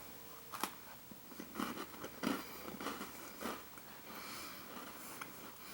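Quiet, close-up chewing of a dry, crunchy oatmeal cookie, with irregular crisp bites and crunches followed by softer chewing.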